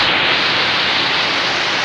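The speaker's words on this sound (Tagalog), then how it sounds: "Lakas na ulan." Heavy rain from Typhoon Goring roars as a loud, unbroken hiss, dense and close, with no other sounds standing out.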